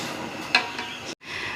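A spoon stirs sugar into rice in a cooking pot for sweet zarda, with a scraping, rustling motion, one sharp metallic clink partway through and a brief pause near the end.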